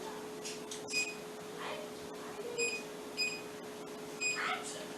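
A kitchen timer set for an oven bake at 450 degrees gives a few short electronic beeps, faint and spaced apart over a steady background hum.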